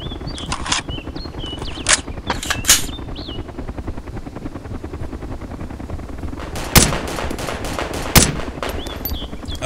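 Gunfire from the video game Arma 2 DayZ aimed at an armored LAV vehicle: sharp distant rifle shots ring out over a constant rumbling engine drone, two louder cracks standing out near the end.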